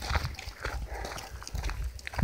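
Dogs meeting outdoors, with a few soft, scattered yips and snuffles mixed with rustling and shuffling nearby, fairly faint and irregular.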